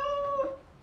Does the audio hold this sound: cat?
yes